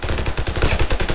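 Automatic weapons fire rapidly in the video game Ravenfield, with loud, close bursts of shots crackling in a tight, continuous stream.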